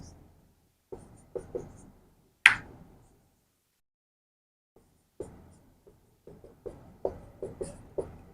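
During a lecture, chalk or a marker taps and scratches on a board in short, irregular strokes with quiet pauses between them. One sharper squeak stands out, and the sounds are close and fairly crisp.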